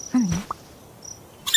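A red panda calls in the zoo-building video game Zoo Simulator: a short squeaky call sliding downward, then a tiny chirp, over quiet game ambience.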